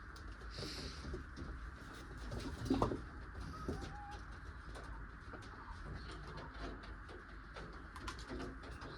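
Malawi Jor pigeons held up for sale coo softly in low, rolling calls, with a faint hum of background noise and no talking.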